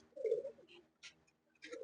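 Kalyani cross pigeons in a breeding loft, soft throaty coos in short bursts with brief pauses between, close and fairly quiet, with faint light clicks in the background.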